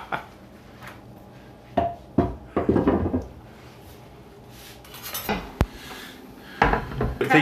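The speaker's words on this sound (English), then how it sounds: "Washing dishes." Dishes being washed in a home kitchen after pizza making: scattered clinks and clatters of pots, pans and cutlery, with quiet gaps between bursts, close by and without speech.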